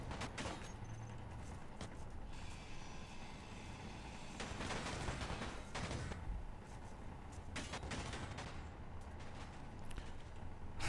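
Gunfire in the space game Space Engineers, with rapid volleys of shots and heavy impacts rattling steadily and fairly faintly across the whole stretch, with bursts swelling at intervals.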